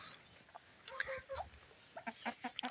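Deshi hens cluck in a series of short, soft calls, sparse at first and then quicker near the end, faint and close, with no talk.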